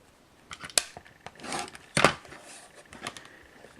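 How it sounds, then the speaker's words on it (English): Fabric for a block-of-the-month quilt block being trimmed straight: a few sharp snips and two broader slicing bursts near the middle, close and fairly quiet, with no talking. "Looks like I got a little crooked there, so I'll just cut that one straight."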